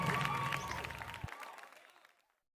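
Applause at a children's faith session held with families, a brief burst of clapping with crowd noise and voices mixed in, cutting off sharply partway through and leaving a fading tail.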